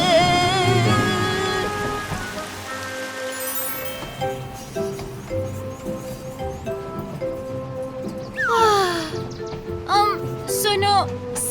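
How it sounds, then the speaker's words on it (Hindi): Rain falls in an animated Titipo cartoon episode, a steady patter under background music and animated character voices with whooshing effects. "अरे, बारिश होने लगी।"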